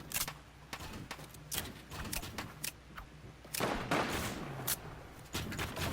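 Gunfire and sniper shots in Fortnite: sharp cracks at irregular intervals, some clustered in quick bursts and a few louder, fuller blasts, all fairly close with no talk over them.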